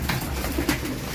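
Racing pigeons coo softly in a loft, several low murmuring calls overlapping at close range against a steady background hum, with no talking.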